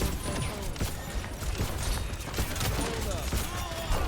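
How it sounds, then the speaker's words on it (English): Rapid gunfire from an Overwatch match crackles in dense bursts alongside game effects, with a voice talking over the action throughout. "Nice, you shot the Genji, helped killing him."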